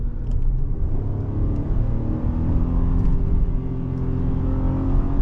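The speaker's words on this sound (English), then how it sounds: "let me show you just how high this thing redlines" A 2025 Ram 1500 pickup engine revs hard and climbs toward redline, a loud, sustained, close roar with rising tones and no voices over it.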